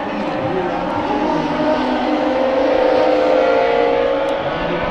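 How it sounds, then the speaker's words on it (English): Thunder Roadster race cars at a racetrack bullring roar steadily, with an engine revving and bouncing off its rev limiter; the sound is loud and sustained, and a faint commentator voice sits underneath. "I hear someone's rev limiter."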